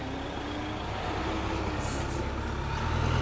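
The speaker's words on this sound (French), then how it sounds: "je laisse passer les voitures" Vehicles pass close by on a campsite road at Presqu'île de Giens, a steady loud engine rumble and tyre roar that swells toward the end, with no talking.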